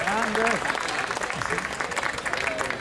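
An audience at an outdoor threshing festival with a music group claps in steady, dense applause, with a voice speaking over it near the start.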